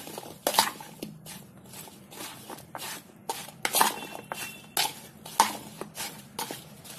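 Radish pickle being stirred with salt and turmeric powder, a series of irregular clinks and scrapes of a spoon against a bowl, close and fairly loud, without talk.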